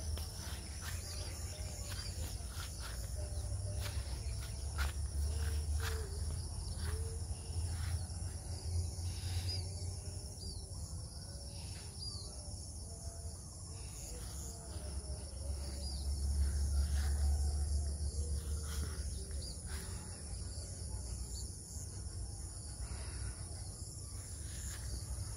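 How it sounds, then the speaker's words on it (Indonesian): Steady, shrill insect chirring fills the background, crickets chirping continuously at a moderate distance in a dragon fruit orchard, with a low rumble underneath that swells briefly. "Suara-suara jangkrik."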